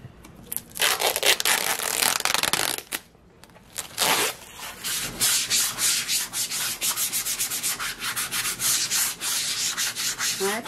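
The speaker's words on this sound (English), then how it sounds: "You got that sandpaper taped to your hand?" A guitar body from a kit is sanded by hand with sandpaper, giving repeated close, raspy rubbing strokes in bursts with a brief pause partway through.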